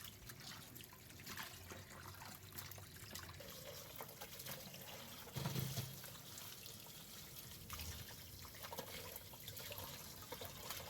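Tap water trickles and splashes steadily while about three-quarters of a kilogram of mutton pieces are rinsed for a kurma, a soft continuous running-water sound with a brief louder splash midway and no talking.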